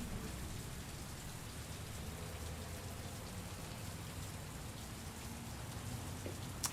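Steady rain falling in the video game Heavy Rain, a soft, even wash of drops on surfaces that continues unbroken throughout at low volume, with no voices.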